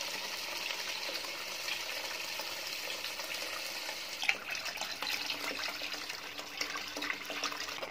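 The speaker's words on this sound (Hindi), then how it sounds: "दोबारा से स्टेन करके ऐड करेंगे" Liquid from soaked melon seeds poured through a strainer into a pot, a steady close trickling and splashing stream that runs for several seconds with a brief clink midway.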